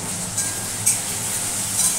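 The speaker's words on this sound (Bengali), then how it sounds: "সাদা জিরা আর তেজপাতা ফোড়ন দিয়ে আলুগুলো ভেজে নিচ্ছি" Potatoes frying in oil with cumin seeds and bay leaf, a steady soft sizzle with faint clinks of stirring, close and without talk.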